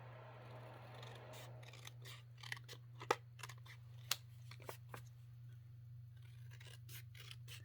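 Scissors snip through paper for a junk journal, a short run of sharp, close cuts and rustles over a steady low background hum, with no talking.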